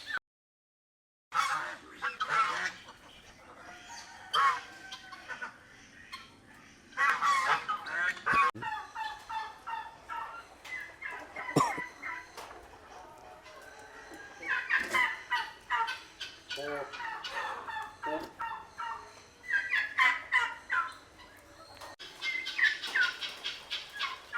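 Meat chickens and other farm fowl on a farm with Gir cattle and goats give a steady run of clucks, squawks and gobbling calls, fairly close and alone, rising and falling throughout.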